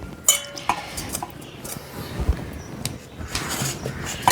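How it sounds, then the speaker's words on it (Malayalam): Washed pork pieces being tipped into a pressure cooker in a home kitchen, with scattered clinks and clatters of metal pots and utensils, a few sharper knocks, and a thud in the middle. "അത് കഴുകി കുക്കറിലേക്ക് ആക്കുകയാണെങ്കിൽ നമുക്ക് വേവിക്കാം"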